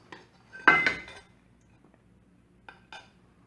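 Rice being plated with a utensil, with a few clinks and scrapes against dishes, two louder clustered knocks near the start and lighter taps later, close and fairly quiet.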